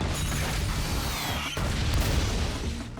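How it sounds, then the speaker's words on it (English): The Green Goblin's pumpkin bomb blows up a balcony in the 2002 Spider-Man film: a loud, sustained roaring blast with rumbling debris that swells again midway and carries on without talk. "This pumpkin bomb is just an explosion pumpkin bomb. It truly is a bomb."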